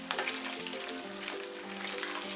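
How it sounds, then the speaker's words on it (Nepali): Momo sizzling in oil in a pan, a steady close crackle and hiss throughout with no talk. "मोमो राम्ररी फ्राई भइसक्यो"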